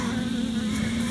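Honey bees buzz in a steady, dense drone during a hive inspection, close and continuous with no voices.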